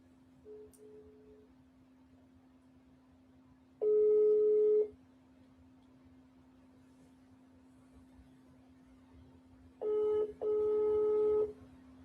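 A phone call rings out as a ringback tone: two bursts of electronic ringing about six seconds apart, the second broken into two pulses, over a steady low hum with no talking.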